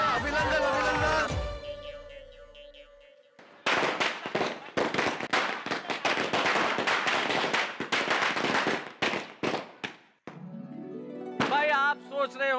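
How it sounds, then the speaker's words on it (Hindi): Firecrackers go off in a fast, loud run of crackling bangs during a festive wedding celebration, with voices and music heard before and after the bursts. "बिना दिवाली के पटाखे क्यों छोड़ रहे?"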